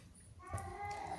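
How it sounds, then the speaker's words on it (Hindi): A cat meows faintly once, a short rising call under quiet room noise. "हो सकता है आपको भी म्याऊं म्याऊं सुनाई दे रही हो, ये कैट है"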